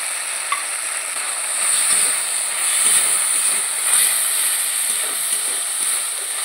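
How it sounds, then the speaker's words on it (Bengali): Chili powder, turmeric, chopped tomato and green chilies frying in oil for an Aar fish curry, a steady close sizzle with soft stirring scrapes running throughout. "ভালো করে তেলের মধ্যে কষিয়ে দেব মশলাটা।"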